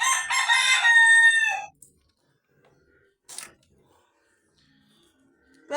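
A rooster among newly acquired chickens gives one loud, close crow, followed by near silence, a brief cluck or rustle, and a faint sound at the very end.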